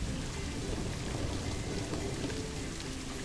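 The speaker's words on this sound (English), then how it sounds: "Thunderstorms." Steady thunderstorm rain falls in the Planet Zoo video game, a dense, even wash of drops with low rumbling underneath, constant and fairly loud for the whole stretch with no voices.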